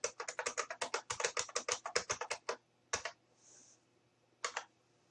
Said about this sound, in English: I use my right hand on the number pad and my left hand on the left arrow, and my pinky on the enter key on the number pad